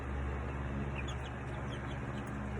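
Young chicks sick with coccidiosis give faint, scattered high peeps in a brooder, barely rising above a steady low background hum.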